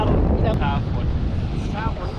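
Strong wind buffets a fishing boat at sea during a squid-fishing trip off Koh Naka, Phuket, a steady broadband roar with brief voices talking over it.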